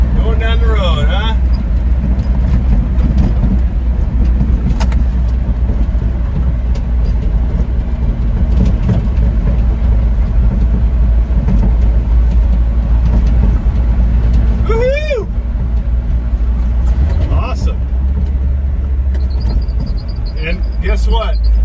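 A 1979 Ford Courier 4x4 pickup drives along a road, its engine a loud, steady low rumble throughout, with a few short vocal sounds and faint bird chirps on top.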